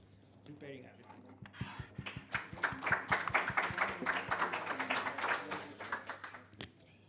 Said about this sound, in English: So round of applause for Chris while he's preparing everything